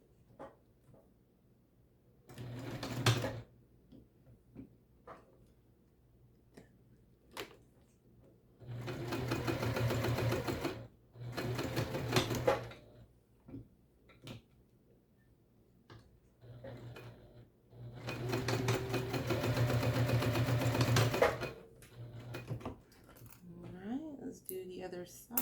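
A sewing machine stitches along the long edges of a fabric tote bag in several separate loud bursts of rapid mechanical whirring. Quiet handling noises fill the gaps between runs.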